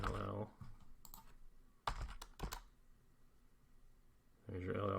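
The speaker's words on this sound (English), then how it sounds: "So we're going to type ll." A short command is typed on a computer keyboard in a quick burst of close, crisp key clicks, with someone talking before and after the typing.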